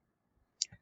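A single sharp mouse click on a computer's start button, short and fairly close, followed by a faint low thump in a quiet room.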